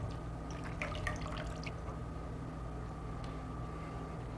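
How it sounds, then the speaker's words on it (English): Fresh wasabi pieces being rinsed under running water and lightly drained, with soft dripping and trickling over a steady low hum, and a few brighter splashes early on before the flow settles. "I'm just going to rinse that off nice, and we'll just lightly drain it."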